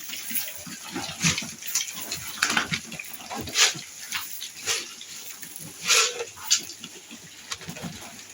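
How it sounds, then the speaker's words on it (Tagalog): Piglets on a pig farm grunt and squeal in short, scattered bursts over a steady noisy background, with a few louder sharp squeals standing out and no talking. "At masisigla po ang ating pong mga alagang mga biik."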